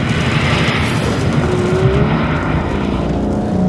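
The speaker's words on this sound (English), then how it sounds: "You cannot beat a massive engine in a tiny car." An Aston Martin V12 Vantage Roadster's V12 engine drones loud and steady in horrific conditions, a continuous close roar with rising revs throughout and no voices.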